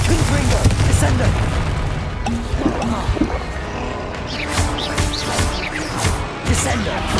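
Explosive spell blasts in the Hogwarts Legacy video game pile up in dense booms and crashes over a continuous loud battle din.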